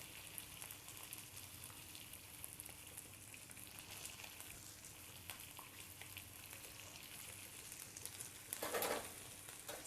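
Onion sautés in a pan for vangibath, a faint continuous hiss of frying throughout with a short louder burst of stirring near the end, heard alone.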